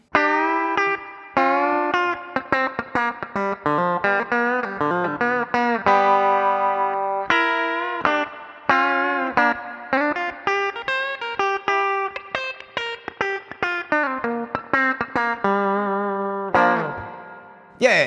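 An electric guitar plays a lively country-style melody with bent notes and quick picking, clean and bright with a little reverb, no voices.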